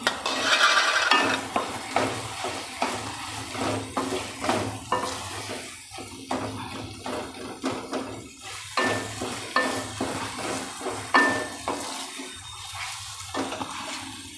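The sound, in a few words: green onion frying and being stirred in a pan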